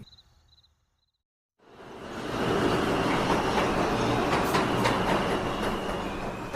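A train passes in an animated Bangla story: after a short silence, a loud, steady rumble with rattling wheel noise rises and holds close by until the end.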